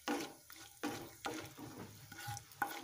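Cardamom, cloves, cinnamon and a dried chilli frying in oil as a spatula stirs them around the pan, repeated close scraping strokes in an uneven rhythm over a light sizzle.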